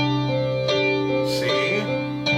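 Added ninth chord for a ballad, played with an effects-laden sustained tone and reverb, several chord strikes ringing into one another, close and moderately loud with no talking.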